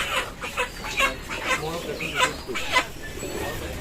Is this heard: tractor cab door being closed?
no